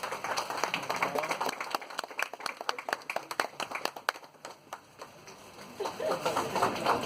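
An audience claps at a wellness series launch event, a dense patter of many hands that swells and thins over several seconds, with crowd noise rising again near the end.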